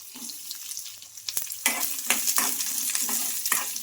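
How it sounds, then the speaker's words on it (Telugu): Tempering spices crackle in hot oil in a pan while being stirred, giving close sizzling and repeated scraping strokes, with quiet pauses between bursts. "ఇప్పుడు ఇలా ఒకసారి బాగా కలిపేసుకొని పోపులన్నీ వేగిపోవాలి"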